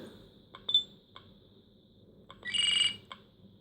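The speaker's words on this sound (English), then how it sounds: "I could choose a different alarm sound." A short electronic alarm tone chimes from an HP 620LX handheld PC, a few quick high beeps followed by a brighter sustained ring, fairly quiet.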